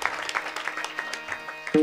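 A crowd at a Marathi kirtan gives a hearty round of clapping, scattered claps through the whole stretch, with a voice breaking in at the very end.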